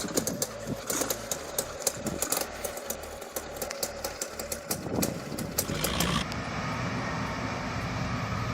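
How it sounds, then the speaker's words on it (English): A Timberjack 380B skidder engine laboring as the machine drives into deep mud, a steady rumbling drone with rhythmic chugging that swells and then settles into a continuous roar. "Then the Timberjack 380B enters the mud like a war machine."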